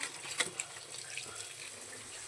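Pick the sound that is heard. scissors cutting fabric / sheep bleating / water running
water running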